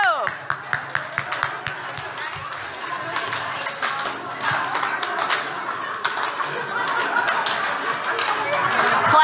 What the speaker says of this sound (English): Clap together, clap together, clap together.